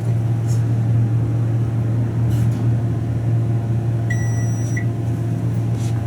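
A small traction elevator hums steadily with a strong low drone, like a running microwave, constant throughout, with a brief faint electronic beep partway through.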